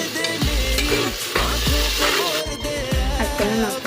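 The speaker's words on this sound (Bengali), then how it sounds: "এই যে আমি মশলা কেবল ভাজতেছি।" Spices fry in a pan for a meat curry. The steady sizzle is loud and close, and a spoon clatters and scrapes in rhythmic strokes as the spices are stirred. No one speaks.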